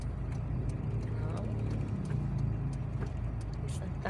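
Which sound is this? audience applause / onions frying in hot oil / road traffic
road traffic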